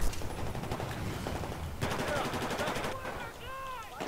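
Rapid bursts of automatic gunfire from a shooter video game rattle on almost nonstop, loud and close, with short pauses and reload-like clicks toward the end.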